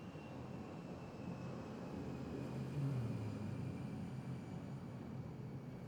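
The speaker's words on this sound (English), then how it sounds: "Maybe you can tell we live near an airport right now. It's always planes going by." An airplane passing by near an airport, heard as a low, steady engine rumble with a faint rising whine, distant and constant throughout.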